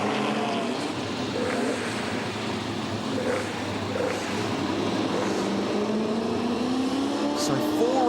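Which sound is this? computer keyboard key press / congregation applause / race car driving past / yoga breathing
race car driving past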